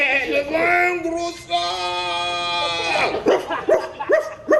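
A goat bleats in a storybook sound effect, a long wavering cry held for a couple of seconds, then shorter stuttering bleats follow, loud and close with no talk over it.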